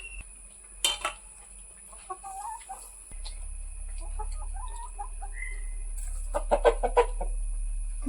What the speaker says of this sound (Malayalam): നമ്മുടെ കോഴിപ്പെണ്ണുങ്ങൾ ചോദിക്കുന്നുണ്ട് കേട്ടോ